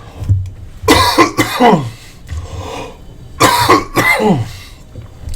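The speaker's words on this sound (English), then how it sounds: "So I apologize for the coughing." Two bursts of harsh coughing, each a quick cluster of coughs, close to the microphone with quiet pauses between.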